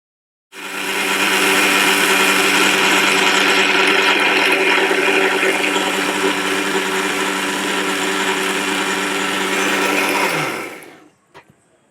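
A kitchen mixer grinder blends tomatoes with a little water into juice, running loud and steady close by for about ten seconds before winding down and stopping, with no voices.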